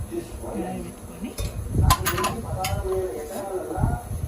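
A metal kadai is set down on a kitchen stove with a few clanking knocks near the middle, amid quieter kitchen rustling and background noise.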